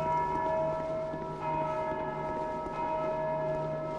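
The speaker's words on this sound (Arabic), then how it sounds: "ليش ليش بتدق الجرس ليش؟" A bell rings in the video game Dark Souls II, a sustained, resonant metallic tolling with rich lingering overtones that fills the whole stretch, steady and fairly loud.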